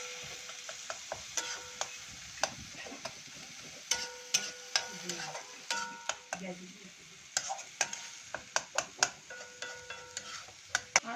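Spice paste with chopped chilies fries in a pan under a low, steady sizzle, punctuated by frequent sharp metallic scrapes and taps of a spoon stirring against the pan.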